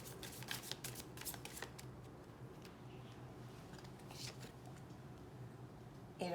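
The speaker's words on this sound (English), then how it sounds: "Last shuffle." Tarot cards shuffled by hand in a steady run of crisp riffling flutters, close and clear over a low background hum, with a brief clatter near the end.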